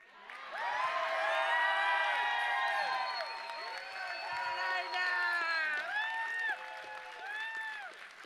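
A conference crowd at a closing plenary claps and cheers loudly and steadily, with whoops and shouts rising over the applause throughout.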